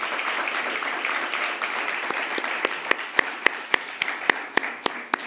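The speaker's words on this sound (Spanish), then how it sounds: "un gran aplauso a todos" Audience applause closing a speech on European defence policy, a dense crowd clapping that thins out into separate, sharp, rhythmic claps toward the end.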